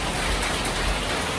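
Rain falls hard in Pattaya, Thailand, a loud, dense, unbroken roar of drops striking surfaces, close and steady for the whole short stretch.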